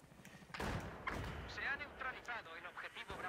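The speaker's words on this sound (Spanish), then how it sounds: "Voy a tirar una granada ahí." A grenade explosion in Battlefield 4 lands as a heavy low thump with a sharp onset, followed by crackling debris and gunfire, while someone talks over the noise.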